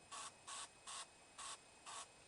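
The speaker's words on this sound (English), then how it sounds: "I'm just going to gently, very quickly spray across" Protectant sprayed onto Velo Orange sewn-on leather handlebar grips in five short, evenly spaced hissing bursts, close and fairly soft.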